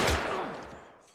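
A single gunshot in a film scene, fired during a crash in the woods near a car, hits with a loud broadband blast and then fades as a decaying reverberant tail over about a second, with no voices.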